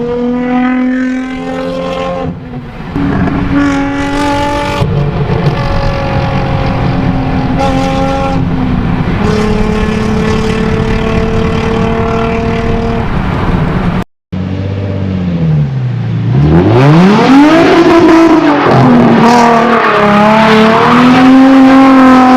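A modified car with a non-resonated exhaust revs loud and close, rising and falling in sharp pulls, then cuts out briefly before a final hard rev sweeps up and down.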